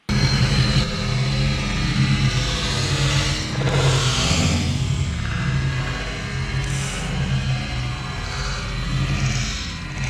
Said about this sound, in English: then did a burnout on it